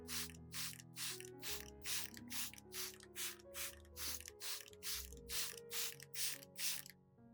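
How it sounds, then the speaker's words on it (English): A handheld spray bottle mists a bread, sugar and milk solution onto houseplants such as anthurium, giving about fourteen quick, evenly spaced hissing squirts over steady background music. "I also spray it on anthurium"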